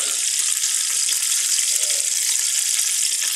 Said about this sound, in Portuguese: já tá aí fritando nosso peixe